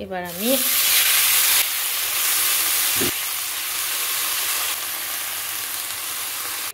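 Fried spice mix and chopped ginger sizzle in a pan for a cabbage curry, a steady broad hiss with stirring throughout and a brief voice at the very start.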